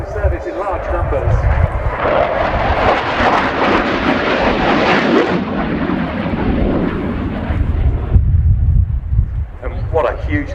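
Romanian Air Force MiG-21 LanceR C jet roaring through a flying display at the RIAT airshow, a loud continuous engine rumble and roar lasting the whole stretch, with an announcer talking over it.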